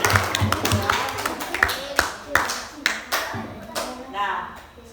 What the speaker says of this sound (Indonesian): Ibu beri aplaus tepuk tangan semuanya dulu